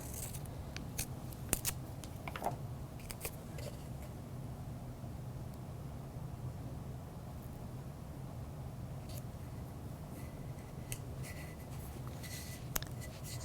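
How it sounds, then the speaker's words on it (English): Quiet, scattered snips and crisp clicks of scissors trimming masking tape, irregular and close, over a faint steady background hiss. "take some masking tape and trim a little bit with scissors"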